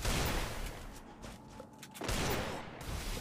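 Bursts of gunfire in the Free Fire video game, dense crackling volleys at the start and again after a short lull, fairly faint.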